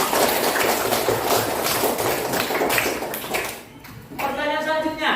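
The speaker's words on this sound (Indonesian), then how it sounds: "Nah, Tepuk tangan untuk Mbak Reva." A classroom group claps for a student in a lesson, a dense, steady patter of many hands filling the room, fading briefly before a voice speaks over the end.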